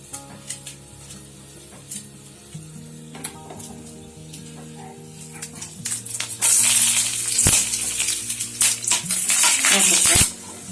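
Mustard seeds spluttering in hot oil for Tamil-style tamarind rice, a dense crackle of quick pops that builds loud and busy in the second half over a low background hum.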